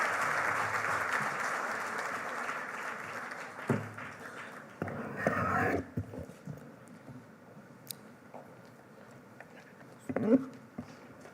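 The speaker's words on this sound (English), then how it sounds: "Please give a huge, huge round of applause for Professor Clara Chow." An audience claps for a professor being welcomed to give a memorial oration. Dense, steady clapping fills the first few seconds, then stops abruptly, leaving scattered bumps and shuffling.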